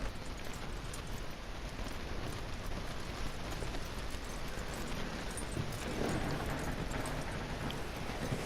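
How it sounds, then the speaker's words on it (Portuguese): Horse hooves clip-clop steadily and continuously in the Red Dead Redemption 2 video game, a dense, fairly quiet rhythm running throughout with no talk over it. "Arthur pega o cavalo que está no celeiro e leva ele para Duct"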